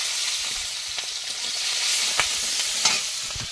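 Onion, green chili and five-spice seeds frying in oil in a wok, a loud, steady sizzle with light crackles and a few soft stirring scrapes, no talk.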